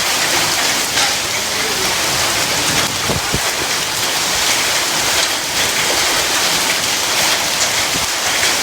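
A hailstorm with rain pours down hard on a rooftop terrace garden, a dense, loud, continuous hiss that holds throughout, with a few sharper knocks standing out around the middle.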